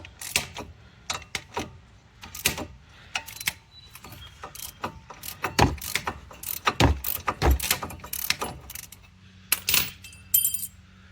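Clicking and ratcheting of a 19 mm socket wrench working a brake bracket bolt loose on a 2008 Chevrolet Aveo front wheel, a rapid series of sharp metallic ticks in irregular bursts, close up with no talking.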